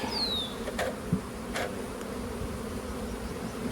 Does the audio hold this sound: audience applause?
no